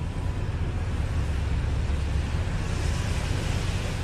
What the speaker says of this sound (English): You can hear that waves in the background.